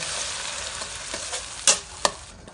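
Squid stir-fried with onion, garlic and salted egg sauce in an oiled pan gives a steady loud sizzle, broken near the end by two sharp clanks of the spatula against the pan.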